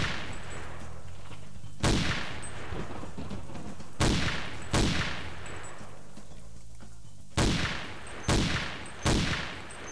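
Sniper rifle shots in the Boiling Point: Road to Hell game, a series of sharp, loud cracks with booming echoing tails spaced irregularly over ten seconds, some fired in quick pairs, over a steady rain-like ambient hiss.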